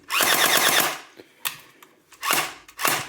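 A Gel Blaster SURGE gel blaster firing in repeated-fire mode, a close rapid buzzing burst of shots about a second long, then short snaps and a second burst, loud and free of talk.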